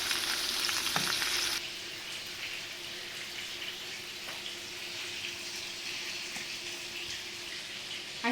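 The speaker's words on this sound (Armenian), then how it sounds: "հանգիստ կրակին եմ ես կարմրացնում, որ հանգիստ եփվելով սիրում գեղեցիկ կարմրի" Food browning gently in a pan over low heat, a steady soft sizzle throughout, louder and brighter for the first moment and then settling into a quieter, even fry with occasional small crackles, no voices.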